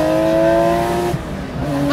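A Guntherwerks Porsche 993 Speedster with an air-cooled, naturally aspirated flat-six runs close and loud as it drives along, with a steady engine drone and a brief dip before the revs climb again.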